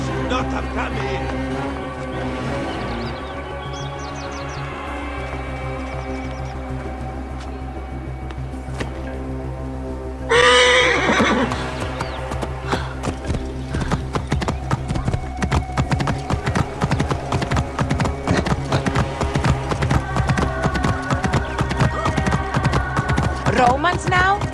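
Horse hooves clip-clop in a steady rhythm in Assassin's Creed Origins, growing louder after a sudden burst partway through, with music and a voice underneath.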